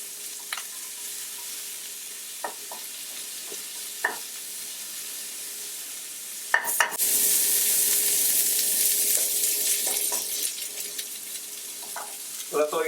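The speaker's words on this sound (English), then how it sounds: "The frying off of it will cook it enough for my liking." Fresh garden vegetables sizzle and fry in a pan while a risotto is being made, a steady hiss that swells loudly about halfway through, with sharp clinks and stirring taps scattered over it and no talking.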